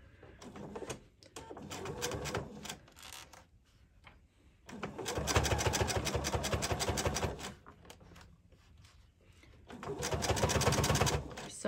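A sewing machine punches through all layers of a shirt collar in three rapid, rattling bursts separated by quiet gaps, close and clear.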